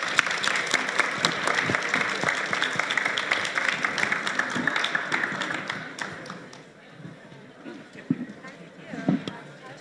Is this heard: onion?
no